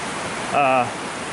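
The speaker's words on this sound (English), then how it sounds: "Let me get somewhere I'll talk more where you don't hear the rushing water" Steady broadband rush of the Salmon River along a trail in Pulaski, New York, flowing close by and constant, with a short tonal chirp briefly rising above the water noise.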